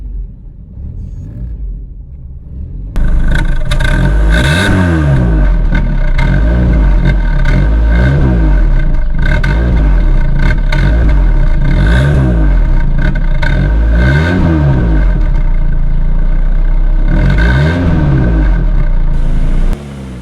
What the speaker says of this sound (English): There's something about driving an old school manual car that just feels so engaging.